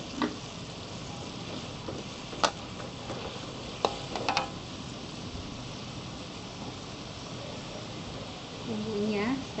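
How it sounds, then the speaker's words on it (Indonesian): Galangal, bay leaves and a little lemongrass stalk are sautéed with spice paste for lontong sayur, giving a steady close sizzle and frying hiss with a few sharp spatula clinks and stirring scrapes. "Kita tumis."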